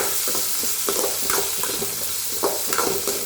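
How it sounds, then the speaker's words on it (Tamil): Mushrooms and capsicum sautéing in sunflower oil in a pan sizzle steadily under a few quick stirring scrapes, close up with no talking. "இப்போ கேப்சிகம் போட்டுக்கலாம். இப்போ நல்லா வதக்கலாம்."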